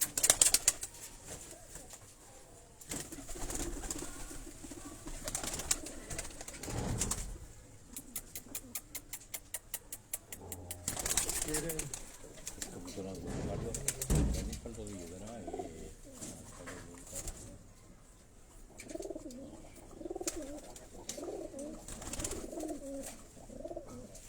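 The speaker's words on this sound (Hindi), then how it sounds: "ये अभी आपको थोड़ा सा ये कबूतर दिखाएगा इंशाल्लाह" Breeder pigeons in a loft, with soft repeated cooing and bursts of wing flapping over a noisy background, and people talking nearby.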